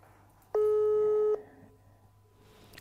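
A telephone ringback tone sounds once while a call is placed: a single steady electronic tone lasting under a second, then quiet line hiss.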